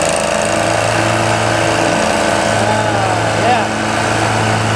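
A Great Dane ZT zero-turn mower engine runs steadily after a hydro pump replacement and an oil fill with full synthetic 15W50, a loud continuous hum close by, with a brief spoken word over it.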